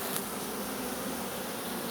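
Honeybees fly in front of the hive as foragers return, a dense, steady buzz of many wings close by, with no voices.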